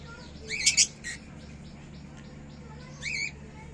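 Six-month-old pet birds give a few sharp squawking chirps in two short bursts, close and fairly clear over quiet room hum.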